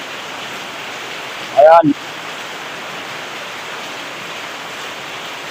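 Heavy rain pouring down at night during a thunderstorm with lightning, a dense steady roar of falling water throughout, briefly interrupted by a short spoken word from a nearby person.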